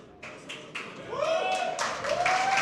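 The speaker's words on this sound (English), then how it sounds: "Dortmund wants to cheer." A live crowd at a Warcraft tournament in Dortmund breaks into scattered claps that build into louder applause and whistling cheers, echoing through the hall.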